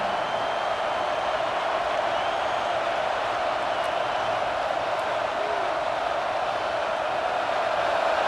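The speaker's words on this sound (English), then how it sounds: "the crowd coming to life here, trying to help this defense down in the red zone" Stadium crowd noise in the EA NCAA Football 26 video game during an Alabama vs Oklahoma playoff simulation, a continuous dense roar of cheering fans holding steady throughout, with no talk over it.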